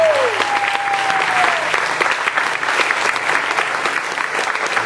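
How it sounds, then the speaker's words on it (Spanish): A church congregation applauds loudly, a dense, steady wash of clapping that fills the whole stretch without letting up, with a brief high whistle-like tone near the start. "Dale bien fuerte ese aplauso"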